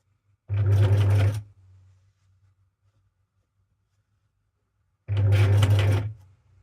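Sewing machine stitching Christmas tree fabric ruffles in two loud, close bursts of rapid mechanical whirring about a second each, separated by a quiet pause with a low hum.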